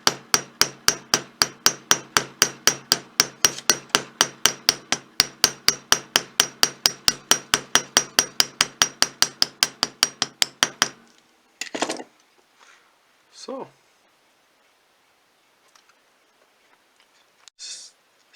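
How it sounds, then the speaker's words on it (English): A round-end hammer strikes a metal rivet on a Viking age sun/shield pendant in fast, evenly spaced ringing taps for about eleven seconds, followed by a few scattered metallic clinks and scrapes, close and crisp. "I use hammer with a round end, and I'm just riveting it."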